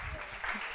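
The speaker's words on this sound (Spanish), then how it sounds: "Un aplauso para ellos, por favor." Brief audience applause at an ebook conference in Barbastro, Spain: a short, soft spatter of many hands clapping, heard faintly and from a distance.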